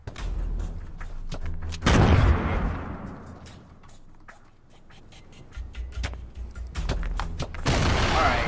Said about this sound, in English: Who's the wise guy throwing grenades? Can you stop throwing grenades?